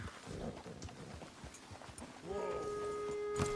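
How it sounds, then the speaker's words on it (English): Horse hooves clip-clop under steady rain and ambient noise in the video game Red Dead Redemption II, ending in a brief tonal whinny-like sound near the end. "Get a hold of that horse, will you?"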